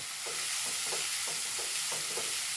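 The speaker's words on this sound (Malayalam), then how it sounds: "ഇളക്കി കൊടുക്കട്ടെ" Food stirred in a pan for an egg bun, a steady sizzle beneath about six rhythmic scraping strokes of the spoon, close and alone with no voices.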